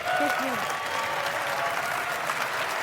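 Audience applause at a live spoken-word talk, a continuous dense wash of clapping from a large crowd with a brief voice heard at the start.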